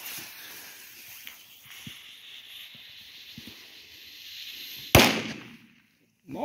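A small 1-gram Wild Bulldog firecracker gives one sharp, loud bang after several seconds of quiet outdoor ambience and faint crackles, with the noise decaying quickly into near silence.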